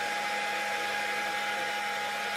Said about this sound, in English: I'm using the hair dryer to evaporate the water